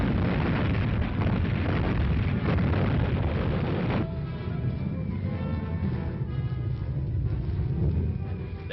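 Oil tanks exploding during a WW2 British commando raid, heard as a loud, sustained roaring rumble of blasts and burning, dense and booming at first, then settling into a lower continuous roar.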